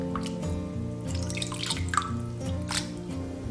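Water drains and drips from rinsed crucian carp fillets soaked in salted water, a steady close-up trickle with scattered drips over a low background hum.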